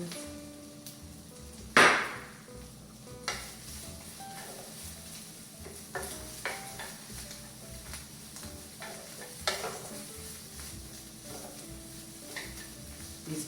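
Onions and vegetables sizzle softly in a skillet on a stovetop burner for a keto chicken fajita, a faint steady hiss broken by a sharp metallic clank and scattered utensil taps.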